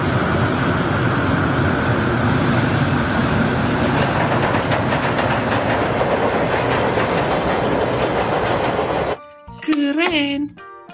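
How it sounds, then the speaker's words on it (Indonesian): A train rumbles past with a steady rhythmic clatter of wheels on rails, loud and close, ending abruptly before a brief burst of other sound. "Kereta api."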